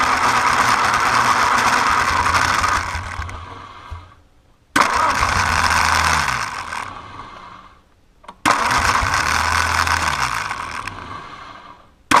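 A John Deere HA 92 power unit engine, with a troublesome carburetor, is cranked over three times without catching: each long, loud churning burst runs for several seconds, then stops abruptly before the next try.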